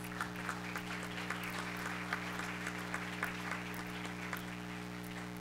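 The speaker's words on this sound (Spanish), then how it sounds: "denle un aplauso, por favor" A panel session audience in Mexico applauds a newly welcomed panelist. The clapping is soft and distant over a steady electrical hum, with no talking.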